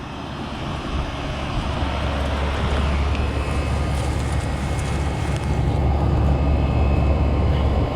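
A 1989 Bryant central air conditioner running in cool mode, a steady loud outdoor drone of compressor and fan with deep low hum and broad rushing air, constant throughout.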